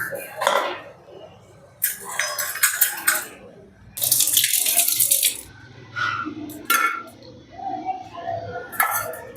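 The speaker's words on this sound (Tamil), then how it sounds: "பன்னீர் வந்து இது தண்ணியில் போட்டுட்டு உடனே வந்து ஃபில்டர் பண்ணிக்கலாம்." Water splashing and running in a kitchen sink as cut paneer is dropped into water and then strained, in intermittent bursts of pouring and sloshing with light clinks of a dish, under occasional speech.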